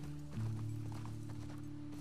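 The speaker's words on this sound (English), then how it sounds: "Go, horse." Hooves clip-clop as a horse gallops in the video game The Last of Us Part II, quick rhythmic hoofbeats heard faintly over a low steady hum.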